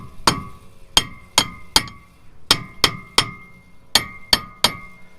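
Rubber mallet striking a Ford F250/350 truck ball joint during replacement, about ten sharp metallic knocks in uneven pairs and triplets, each with a short ringing decay, close and loud with no talking.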